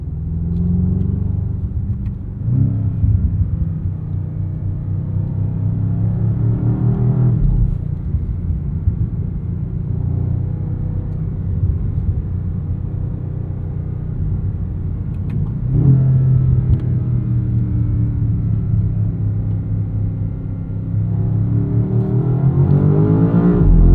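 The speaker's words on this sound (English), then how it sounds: "we're just going to kind of listen to the noises that this car makes" A 2025 BMW M5 G90 driving in M1 mode gives a loud, continuous low engine rumble that swells in several revving surges as it accelerates, with no talking.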